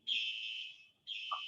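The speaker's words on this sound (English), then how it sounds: "Oh yeah, the jail, they have a fire alarm." Fire alarm ringing inside a jail: two loud, steady electronic alarm bursts, the first about a second long and the second after a short gap, with no talk over them.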